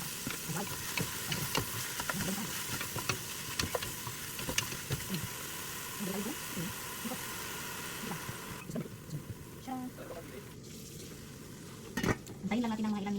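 Sausage, celery and carrot fry in a pan with a continuous dense sizzle, mixed with scattered utensil scrapes and clinks against the pan throughout.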